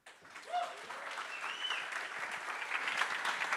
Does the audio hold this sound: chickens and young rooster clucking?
no